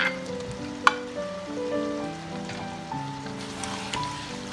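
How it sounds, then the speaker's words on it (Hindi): Mutton liver curry frying in a pan while a spoon stirs it, with a soft, continuous sizzle under clinks and scrapes of the spoon on the pan and one sharper knock near the start. "इसको अच्छा से चम्मच चलाऊंगी"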